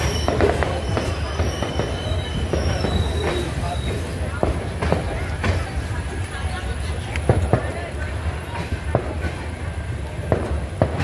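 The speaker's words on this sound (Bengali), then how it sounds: "মোকামা স্টেশন ঢুকছে ট্রেন।" A train rolls into Mokama station, its wheels clattering and clicking over the rails in an uneven rhythm under a steady loud rumble, with occasional sharp knocks and a faint squeal.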